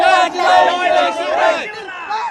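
A loud, close crowd of Maratha quota protesters in Mumbai cheers and shouts together in celebration, with many overlapping voices raised in rousing cries throughout.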